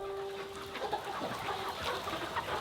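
Chickens cluck and murmur on a free-range farm, a faint, continuous flock chatter with no single bird standing out.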